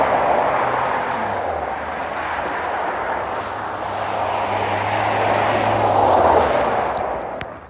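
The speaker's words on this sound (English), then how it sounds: "Not only a burnout, but try to get this thing to go ahead and do a little revolution, a little spinny spin." A car doing a burnout and spinning in a circle, a steady loud engine roar with hissing tyre noise that swells and falls over several seconds, no talk.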